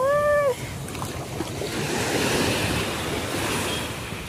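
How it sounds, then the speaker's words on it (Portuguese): Sea waves wash up a beach in a broad, steady surf roar that swells toward the middle of the clip, with wind buffeting the microphone and a brief bird-like chirp at the very start. "esse barulhinho de mar, cheirinho de maresia, como eu amo"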